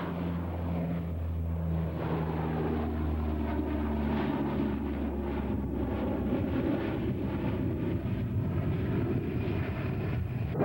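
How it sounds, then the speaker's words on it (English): A jet at the 1987 Top Gun airshow accelerates away from a simulated carrier deck in a missed approach, a steady loud engine roar with a low drone and wind buffeting, continuous throughout. "our pilots will receive a simulated wave-off and will accelerate away from the deck"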